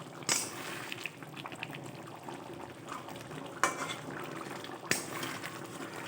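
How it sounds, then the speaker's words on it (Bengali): A spoon stirs prawn malai curry, a Bengali dish with garam masala, in a pan, giving wet scraping and bubbling under a low simmer, with two sharp knocks against the pan along the way. "গরম মশলা গুঁড়ো দিয়ে দিয়েছি, দিয়ে ভালোভাবে নেড়ে মিশিয়ে দিচ্ছি।"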